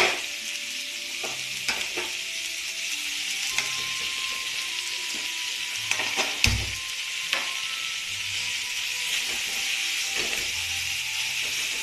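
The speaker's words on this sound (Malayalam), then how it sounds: "നമുക്കിതൊന്ന് വഴറ്റാം." Okra sautéing in a pan on low heat for Kerala-style vendakka mezhukkupuratti, a steady soft sizzle with occasional clinks and scrapes of stirring, heard close and alone.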